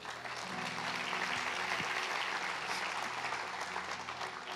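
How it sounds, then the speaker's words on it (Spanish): Applause from a church congregation honoring their pastor, steady and dense throughout, with a low musical drone or hum faintly underneath. "Dale un aplauso a mi pastor."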